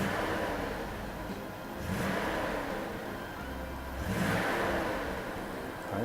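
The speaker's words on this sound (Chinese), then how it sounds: "大哥现在把冷气打开， 我们看到它这个几乎转速有稍微掉一点" A Mercedes W126 420 V8 with a rebuilt fuel distributor idles with the air conditioning on: a steady mid-pitched engine hum that dips and swells twice as the idle sags and recovers, close by with no talking.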